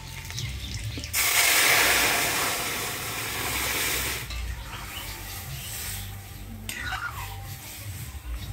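Lentils hit hot oil already seasoned with dried chillies, bay leaf, fennel and crushed ginger, bursting into a loud, sudden sizzle that slowly settles into a softer crackling hiss with some stirring.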